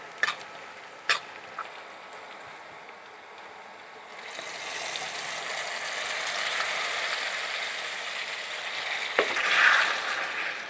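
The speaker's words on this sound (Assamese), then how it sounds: "মাংসখিনি কেৰাহীত দি ভালদৰে লৰাই অলপ সময় ফ্ৰাই হ'বলৈ দিম" Mutton pieces fry in a kadai for an Assamese curry, a soft hiss that swells after a few quiet seconds with clicks and scrapes of stirring at the start and end, close but moderate in level, with no voices.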